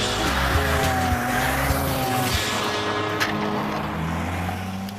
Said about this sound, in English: we're gonna take this car, we're gonna send it into the wall and see what we can tear up